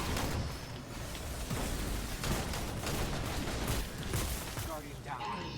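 Tractor cannon blasts in Destiny 2 ring out amid dense gunfire and booming impacts, a busy barrage of crackling shots and explosions with someone talking over it.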